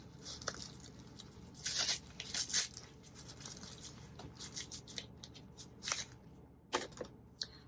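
Packing tape is peeled and ripped off a gift box in quick, crinkly bursts of tearing and rustling, close to the mic and with no voices.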